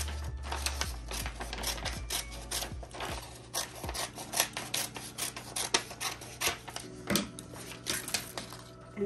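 Scissors snip around a printed sublimation image for a tote bag, a quiet series of short crisp cuts and paper rustles at close range, with no talking.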